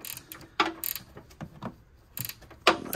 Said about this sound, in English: So these ratchet wrenches have a swivel head on them.